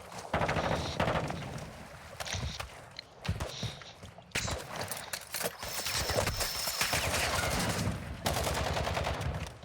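Bursts of gunfire in Call of Duty Modern Warfare II DMZ mode, sharp repeated shots and rapid volleys in irregular clusters, loud and close, separated by brief lulls with footsteps and movement noise between them.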